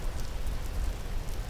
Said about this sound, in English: Getting a little rain today.